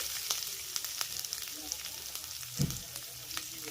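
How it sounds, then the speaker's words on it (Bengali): Ginger, garlic cloves and chunks of raw coconut fry in a pan with a soft, steady sizzle dotted with small pops and crackles, plus a brief low thump near the end. "সমস্ত উপকরণগুলোকে আমি হালকা করে একটু নেড়ে চেড়ে নিয়েছি"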